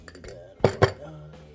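Cheese knife and cutlery in a home kitchen, with a few light taps followed by two sharp, close clinks of metal in quick succession, then a faint trailing chime.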